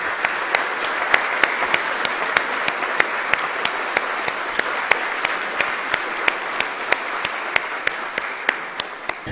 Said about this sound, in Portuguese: Eu pediria a que todos dessem uma salva de palmas